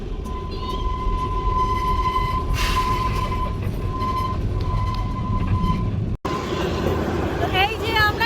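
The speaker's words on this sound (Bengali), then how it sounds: "আমাদের কিন্তু টয় ট্রেনের জার্নিটা আমাদের শুরু হলো সিমলা যাবার।" A toy train running toward Shimla rumbles steadily along the track with a sustained whistle-like tone and some squealing, while people talk over it; the sound briefly cuts out near the end.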